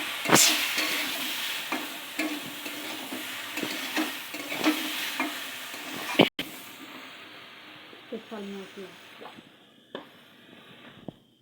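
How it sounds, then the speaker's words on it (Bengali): Turmeric and spices stirred in a frying pan: a steady sizzle under repeated scraping strokes, then a sudden drop to quieter, sparser stirring with a faint hum. "তারপর ভালো করে নেড়ে চেড়ে"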